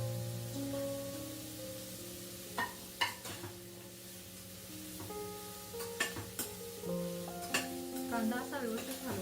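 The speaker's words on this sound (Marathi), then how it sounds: "कांदा असा व्यवस्थित हलवत राहायचा, म्हणजे तो खाली लागणार नाही" Chopped onion and peanuts sizzle in a pan while being stirred, a soft continuous frying hiss broken by scraping and clinking taps of the spoon against the pan, with steady tones from the kitchen running underneath.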